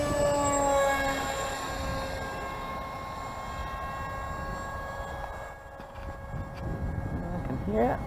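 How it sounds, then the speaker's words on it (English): A helicopter flies overhead near a hospital route, its steady engine drone with whining harmonic tones filling the air, fading slightly then swelling again, with a brief chirp near the end. "I can hear there's a helicopter."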